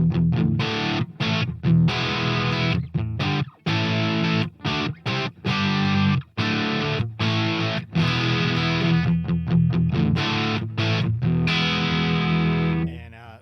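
A heavily distorted Les Paul electric guitar through a Marshall Plexi patch on a GE300 plays thick, crunchy chords and riffs with brief choppy gaps, loud and up close with no talking.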